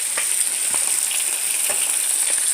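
Halibut fish sizzles and fries on a stove in a steady, close hiss with faint crackles and no speech.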